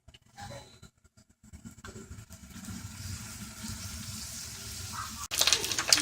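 Pork pot stickers dropped into a hot oiled pan, a low broad sizzle starting faint and building steadily, then jumping louder near the end, with no talk.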